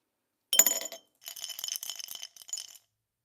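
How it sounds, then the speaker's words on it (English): Ice cubes clink and rattle against a glass in two short bursts, bright and close, with a brief gap between them and silence after. "These ice cubes sound nice"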